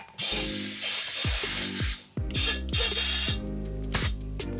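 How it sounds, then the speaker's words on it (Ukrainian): A pump pressurizes a plastic PET bottle with air: bursts of sharp hissing come in pulses, a loud rush followed by shorter spurts, with low tonal creaks and clicks between them. "під'єднуємо насос або пістолет для підкачки, в залежності від того, що у вас є, і накачуємо тиск"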